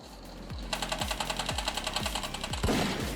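Automatic gunfire from the mobile shooter game Delta Force Mobile rattles in a fast, regular string of close, loud shots, followed by a heavier blast near the end.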